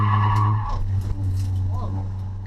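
A car skids through a corner on a race track, handbrake pulled and rear wheels spinning, its engine droning loudly and steadily under a brief tire squeal, with a voice talking over it.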